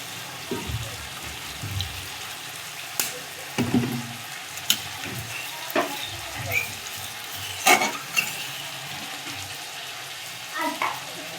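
Biryani masala frying in a pan as water goes in, with scraping stirs and soft intermittent sizzling and bubbling, several sharper clinks of the spoon against the pot, no voices.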